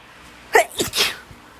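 A single sneeze, a sharp nasal burst followed by a short breathy tail, close and fairly loud in a quiet room.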